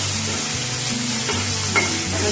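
Onion with ginger and garlic fries in a pan for palak paneer, a loud, dense, continuous sizzle with a few slow stirring scrapes and one brief clink, with no speech.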